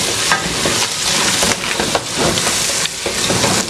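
Pilau ingredients sizzle and fry in a pot while being stirred, a loud, continuous crackling hiss broken by rhythmic scraping strokes of the spoon, close up with no talking.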